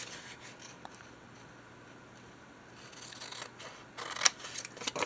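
Paper being trimmed with scissors for a junk journal, a faint scratchy snipping that runs steadily and grows louder with a few sharper cuts near the end, no voices.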